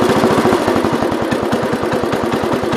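A 1970 408 tractor engine idles loudly and close up, its rapid, even chugging pulses holding a steady rhythm throughout.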